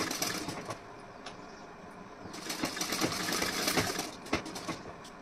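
Electric sewing machine stitching along the edge of fabric for a neckline design, quiet bursts of rapid whirring with a pause in between, then a longer steady run, close and alone.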